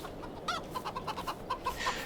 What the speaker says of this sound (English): we must get the chickens replenished with food.